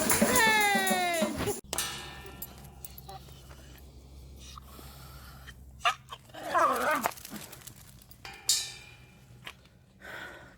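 A dog makes high, rising whimpers and yelps right up close at the start, followed by a few fainter yips and rustling in a quiet indoor space.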